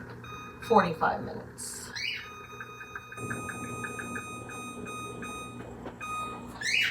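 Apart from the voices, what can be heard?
kitchen timer beeping while being set for 45 minutes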